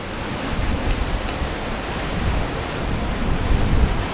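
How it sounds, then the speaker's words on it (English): Ocean waves surge and wash over rocks along the south-west Australian coastline, a steady broadband roar of surf with wind noise, continuous and fairly loud with no talk. "Everything to the left and the right of it is getting blasted and getting covered in water"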